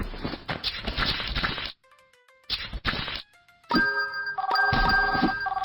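A telephone bell rings in a döner shop game, bright repeated ringing bursts broken by short gaps and mixed with chopping thwacks and clatter.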